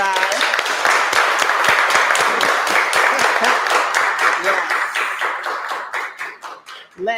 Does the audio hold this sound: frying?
no